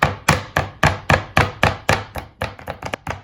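A meat cleaver gently taps a pepper-coated steak on a cutting board in a home kitchen, giving about a dozen sharp, evenly spaced knocks that speed up and grow quicker toward the end, close and clear with no talking.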